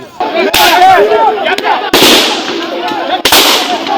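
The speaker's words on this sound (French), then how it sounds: "Des coups de feu à balles réelles se font retentir." Several sharp, loud live-ammunition gunshots crack at intervals during a street march in Bas-Kongo, each followed by echoing reverberation, with shouting voices in between.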